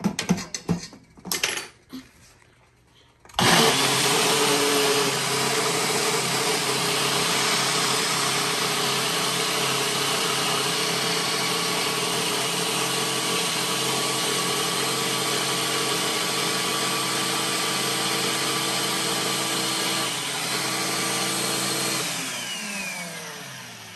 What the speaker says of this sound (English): I'm going to put this back on the blender once again.